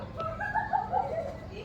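Chickens on a school farm give a brief clucking, warbling call, close and moderately loud over a low background murmur, lasting under two seconds.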